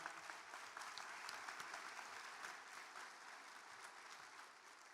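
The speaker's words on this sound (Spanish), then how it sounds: "Un aplauso." Audience applause at a health workforce panel, a dense, even wash of clapping from a crowd heard from a distance, steady and fairly faint, easing off slightly at the end.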